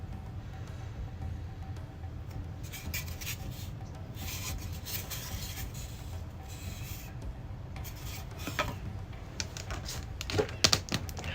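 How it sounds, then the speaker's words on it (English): Sandpaper rubbing back and forth on a handmade tabletop dungeon piece, a steady close scratchy rasp that continues throughout with a few sharper strokes near the end, no talking. "sandpaper is a bit rough."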